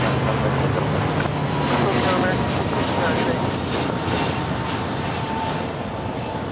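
An airliner takes off from runway 25 right at LAX, its engines a loud, steady roar that fills the air for several seconds and eases slightly toward the end, with wind buffeting the microphone.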